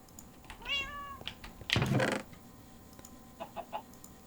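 A cat meows close by with a rising, drawn-out call, followed by a louder rough burst and a few faint softer sounds afterward.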